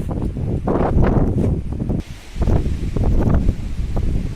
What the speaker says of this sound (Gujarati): મસ્ત પવન હે આજે તો.